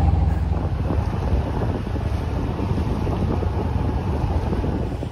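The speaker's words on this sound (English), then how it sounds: "now the sails are up. We're sailing in Norway." Sailboat under sail in strong wind off Bergen, Norway: a loud continuous roar of wind across the microphone mixed with rushing water against the hull, steady throughout with no talking.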